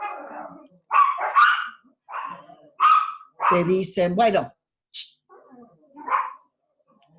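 Small pet dogs bark at a noise outside, letting out sharp, close yips in several short bursts that alternate and overlap with someone talking.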